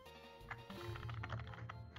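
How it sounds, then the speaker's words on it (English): Rapid clicks of a computer keyboard, someone repeatedly tapping a key during a PokeMMO game session, quick, close and fairly quiet. "Stop your typing."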